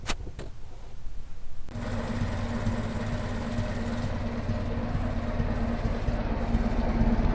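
A Ford Model T engine running on its magneto ignition, a steady close mechanical clatter and hum that holds on without pause, with no talking.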